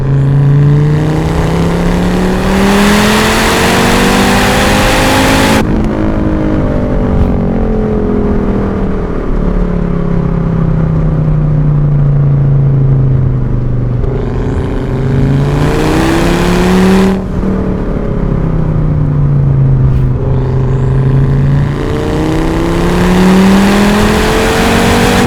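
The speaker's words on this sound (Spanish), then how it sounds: "Y no podemos olvidarnos del sonido motor." A turbocharged Fiat Coupe 20V Turbo engine revs up and down repeatedly, its pitch climbing and falling in long sweeps, loud and close, with a whooshing hiss between revs.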